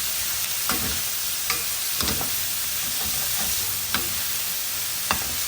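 Saltfish sizzles and fries in a hot pan with seasonings and Scotch bonnet pepper, a steady close hiss broken by sharp scrapes and clatters of stirring every second or so, with no voices.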